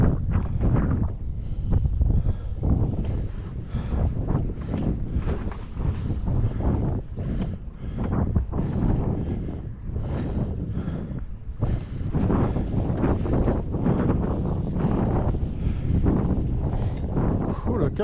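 Strong wind buffets the microphone continuously while wing foiling on water in 10 to 14 knots, a loud, gusty roar with fluctuating rushes and no pause throughout.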